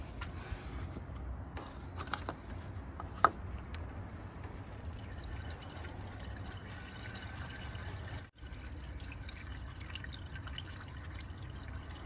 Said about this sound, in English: we're going to fill it up with the distilled water